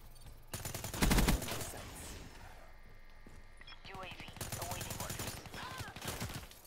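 Rapid automatic gunfire in a Call of Duty free-for-all match, a fast burst of shots that is loudest near the start, followed by further bursts of firing, with a person talking over the gunfire.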